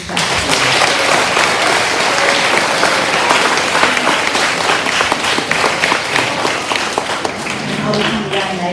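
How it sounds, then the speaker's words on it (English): A school assembly audience claps for students at a senior book awards event, loud sustained applause from many hands close by, with voices murmuring beneath it. "Can we give them all a great big clap?"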